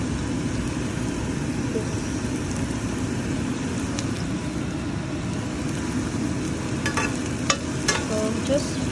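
Red onions and garlic sauté in a pan with a continuous loud sizzle and occasional stirring scrapes, a few sharp clinks of a utensil near the end.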